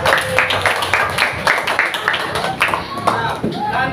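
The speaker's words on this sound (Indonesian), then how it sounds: "tepuk tangan untuk semuanya" A classroom of students claps their hands together during a religious education lesson, a steady burst of overlapping claps, fairly close and moderately loud, with voices mixed in.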